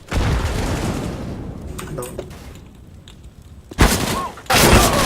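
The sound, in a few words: grenade and Molotov explosions in Counter-Strike: Global Offensive video game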